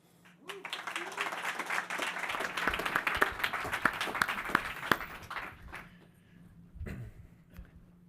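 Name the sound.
audience applause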